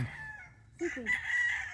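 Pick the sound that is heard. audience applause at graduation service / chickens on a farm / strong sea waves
chickens on a farm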